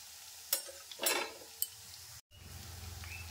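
Egg lollipops fry slowly in a pan over medium heat, a soft sizzle punctuated by a few brisk clinks and scrapes of a spatula turning them, then a steadier hiss after a brief gap.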